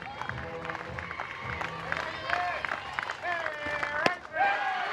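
A softball crowd at a Florida Gulf Coast vs Florida game rises with a swell of cheering and clapping at the final out, building under a commentator's voice toward a louder burst at the end.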